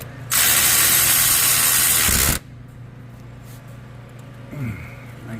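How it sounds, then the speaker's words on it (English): A ratchet tightens the starter bolts on a Honda Accord 2.4L, giving a loud, fast, continuous clicking burst for about two seconds up close, then a quiet workshop hum with a faint brief scrape. "So now I can finish tightening it up and putting it in."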